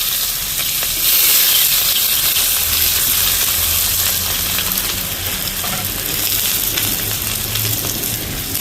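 Green chillies, onions and curry leaves sauté in hot oil, giving a loud, continuous hissing sizzle up close with no one speaking.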